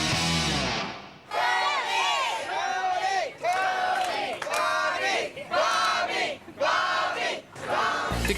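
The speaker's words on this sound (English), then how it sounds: "The crowd is taking sides" A crowd at a cheesesteak cook-off shouts and cheers in rhythmic bursts, chanting voices rising and falling in repeated loud waves that fill the space.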